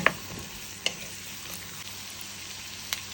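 Onions sautéing in a full pot for fish nashif give a steady, close sizzle, with a few sharp stirring clicks and scrapes scattered over the frying.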